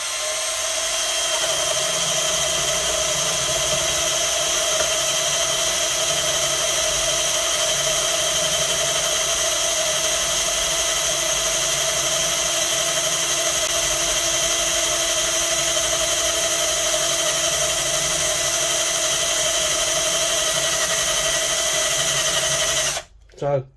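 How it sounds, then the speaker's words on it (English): A power drill runs continuously at a steady high whine for over twenty seconds, drilling through a Telecaster-style guitar body, loud and close, then cuts off abruptly at the end. "just to keep drilling until I'm all the way through"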